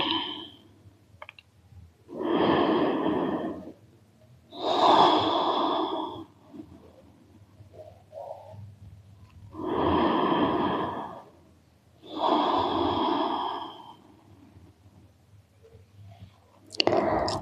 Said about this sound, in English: A few deep breaths here.